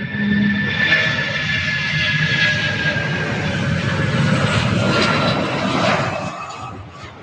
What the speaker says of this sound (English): 757 taking off now.